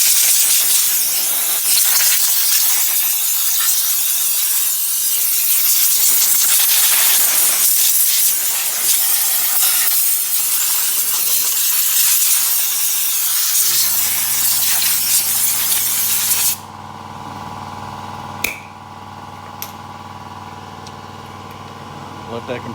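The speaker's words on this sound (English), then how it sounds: "Let that compressor do its thing for a minute." Compressed air from a shop air compressor hisses in a loud, continuous broadband blast while cleaning out the inside of an Eastwood Versacut plasma cutter, then cuts off abruptly, leaving a lower steady hum and a few faint clicks.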